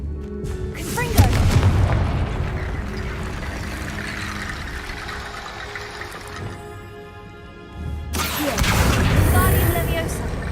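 A Confringo fire spell bursting in the Hogwarts Legacy video game: a loud booming blast rolls out and fades, then a second heavy burst follows, with a voice speaking in the game audio.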